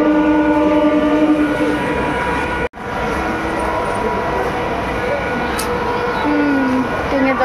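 A train waits at a station platform with a steady rail rumble and sustained horn tones, broken by a brief sudden dropout, then more horn and rolling noise near the end.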